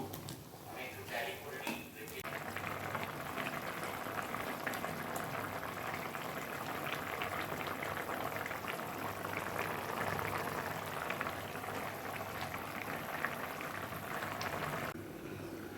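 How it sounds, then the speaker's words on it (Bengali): Paneer curry gravy bubbles in a pan in a steady, soft boil with a constant low burble, and a voice speaks briefly near the start. "ঝোল ফুটে এসছে"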